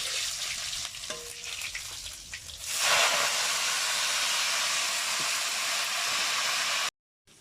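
Saag greens hit a hot pan and burst into loud, steady sizzling and hissing after a quieter start of stirring, continuing until an abrupt cut near the end.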